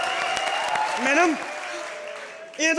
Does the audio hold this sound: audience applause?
yes